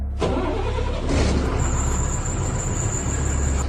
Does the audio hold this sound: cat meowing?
no